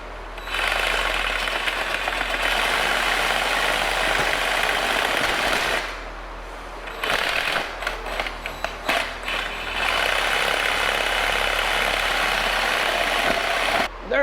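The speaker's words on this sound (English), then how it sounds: "All right, I'm gonna try to cut this with a Sawzall." A Sawzall reciprocating saw cutting soft plastic during a mini split install, a loud, rasping, buzzing drone in long bursts that break off and restart in short stuttering spurts before running steadily again.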